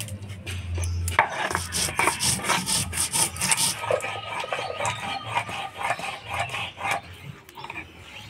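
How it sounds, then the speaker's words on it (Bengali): Ginger, cumin and radhuni seeds are ground together on a grinding stone in loud, close, rhythmic scraping strokes that continue without pause and without talk. "আদা জিরা রাঁধুনি একসাথে বেটে নিব।"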